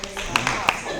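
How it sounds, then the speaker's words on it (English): A few soft, polite golf claps sound close by at an awards event, light scattered pats mixed with voices. "Golf clap."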